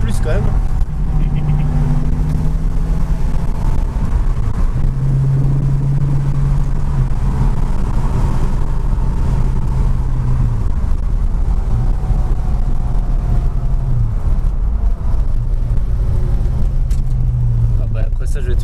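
A Ford Mustang's engine drones steadily from inside the cabin while driving, a low constant rumble with people talking over it.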